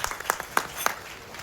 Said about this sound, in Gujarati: યુવાનો બધા માટે તાળી પાડો સાહેબ